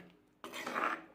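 A spoon stirs curry with kudampuli in a pot: after a brief quiet moment comes one short, close scraping swish against the pot.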